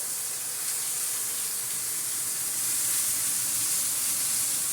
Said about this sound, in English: Now that's the good sear.